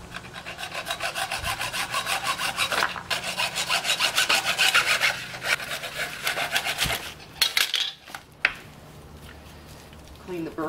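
A clean-cutting drill bit bores a hole for a portable camper gray water tank, giving a steady, close grinding and rubbing whir that runs several seconds before stopping, followed by a few scraping knocks.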